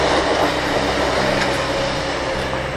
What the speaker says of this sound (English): we'll just let this train go past